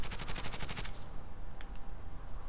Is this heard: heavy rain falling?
no